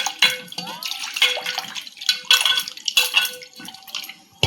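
Raw boneless chicken being washed by hand in water with turmeric: repeated sloshing, splashing and dripping in uneven bursts, close and fairly loud, with light knocks against the bowl and no voices over it.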